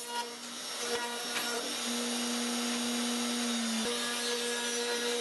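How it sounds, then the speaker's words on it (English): A router table routing a piece of wood down to a thin thickness for a homemade Telecaster guitar build, a steady high whine under a broadband rasp, loud and close, dropping off sharply near the end. "I can wedge it in my router table, and then route it down to a thin thickness"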